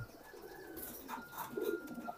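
Soft, low cooing from a racing pigeon nearby, a few murmuring calls over a quiet background.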